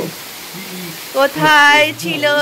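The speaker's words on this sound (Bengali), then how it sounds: "এই মুষলধারে বৃষ্টি শুরু হয়েছে বাপরে বাপ পুরো বর্ষাকাল সেটা একদম হচ্ছে এত বৃষ্টি কোথায় ছিল" A heavy monsoon downpour gives a steady broadband hiss of rain, heard alone at first and then continuing under a man's close speech.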